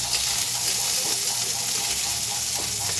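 Garlic browning in a pan, a steady moderate sizzle with faint scraping, close by and continuous.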